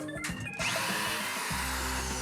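A power drill whirs loudly and continuously as it drives into drywall during a home renovation, its motor pitch shifting partway through with a steady mechanical hum underneath.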